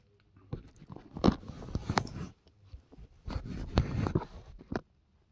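Bites and chewing of a Dairy Queen Sour Patch Kids Blizzard, two close bursts of crunchy mastication separated by a short pause, with no talk.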